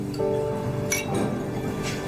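Glasses clink together in a toast of orange juice, a single bright chime standing out over a steady room background with no speech.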